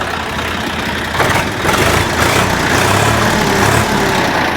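A tractor engine idles steadily and loudly, a continuous low rumbling chug with no talking.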